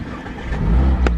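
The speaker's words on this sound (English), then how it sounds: "Press that starter button one time and the car comes into life." A Mazda MX-5 1.5 SKYACTIV-G Sport roadster fires up at the press of the starter button, a short crank followed by the engine catching and revving up close by, loud and alone.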